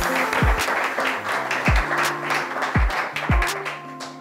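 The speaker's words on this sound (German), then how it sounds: "Kleiner Applaus für die Betty." Short applause from a small audience during a live show in Frankfurt. Loose clapping runs under strong low thumps and tonal background sounds that mask it in places.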